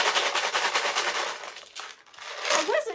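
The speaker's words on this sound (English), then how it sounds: "You could use anything hard like popcorn kernels or pasta, and that makes a pretty loud rattle sound." Plastic water bottle shaker filled with popcorn kernels, shaken in fast, loud rattling bursts that pause briefly and then resume, close up with no talking.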